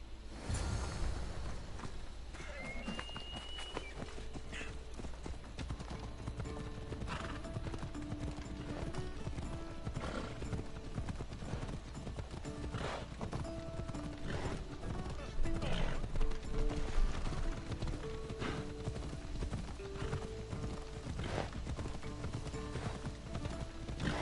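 Horse hooves clip-clop rapidly in a steady galloping rhythm during a race in the video game Assassin's Creed Odyssey, loud and continuous under game music and ambience, with an occasional whinny and a brief louder swell midway.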